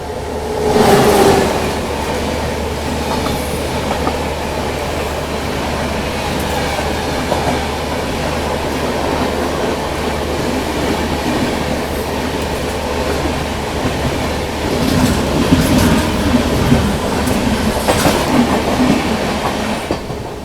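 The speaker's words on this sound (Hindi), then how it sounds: "अम्बाला से तो अपनी ट्रेन निकल चुकी है।" Amritsar Swarn Shatabdi Express running along the track after leaving Ambala, a steady loud rumble of wheels and carriage with clickety-clack rhythms and brief rattles, heard from inside the train.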